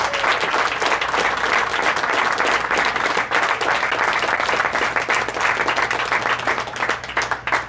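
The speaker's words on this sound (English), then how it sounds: "So big round of applause for all your hard work, the extra money, taking care of the players." A crowd at a bowling tournament awards ceremony gives a sustained round of applause, dense and continuous with many hands clapping.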